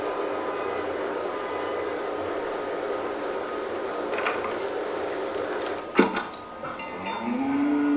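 A cow moos in a farming video game, a single drawn-out low moo near the end that rises in pitch, heard over a steady ambient background with a few soft clicks.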